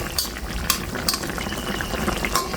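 Tengra fish curry with eggplant and cumin powder being stirred in a pan, a steady sizzling simmer with scattered scrapes and clinks of a spoon against the pot.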